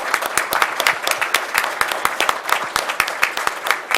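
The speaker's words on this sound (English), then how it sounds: "Let's give them a round of applause." Audience applause at a city council meeting, a dense steady patter of many hands clapping for award recipients, loud and continuous with no talk.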